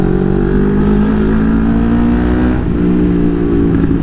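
Yamaha XSR900 motorcycle engine running steadily close up while riding, a loud sustained harmonic drone with a brief dip in revs midway, no voices.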